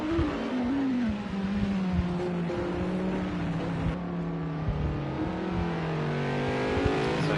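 GT3 race cars at Long Beach in Project Cars 2 scream past, engines revving and shifting through gears with rising and falling pitch, loud and close, several cars overlapping.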